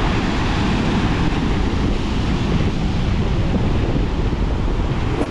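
Continuous roar of stormy sea surf and crashing waves on a Turkish coast in December, loud and close, mixed with steady wind rush and no voices.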